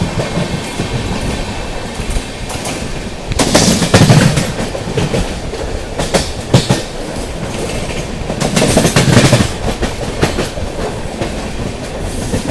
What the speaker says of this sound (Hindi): ट्रेन अपनी स्किप कर रही है रामागुंडम रेलवे स्टेशन।